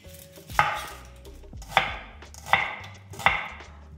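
Knife chopping onions on a cutting board, four sharp, evenly spaced chops with faint kitchen background noise between them.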